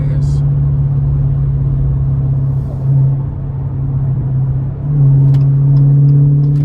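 A Dodge with a 392 SRT engine drives through morning traffic, a deep, steady rumble close by that swells into a stronger accelerating drone, with a voice speaking briefly over it.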